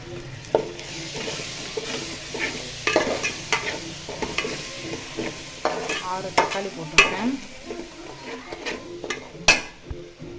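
Pureed tomatoes are stirred into a sizzling mutton and cauliflower curry, with a spoon scraping and clinking against the pan in irregular strokes over a continuous soft frying hiss.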